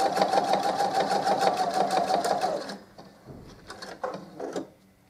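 A sewing machine stitching a fabric coaster runs in a steady fast whir of needle strokes for about three seconds, then stops and gives a few short, quieter bursts of stitching, close and clear with no talk.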